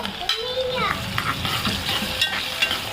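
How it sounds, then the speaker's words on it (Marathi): Chopped onion and tomato sizzle in a hot pan while being stirred for a quick sprouted-legume misal, with a steady frying crackle and scraping stir sounds close by. "कांदा थोडा लाल होईपर्यंत शिजवूया टमाटर टाकूया"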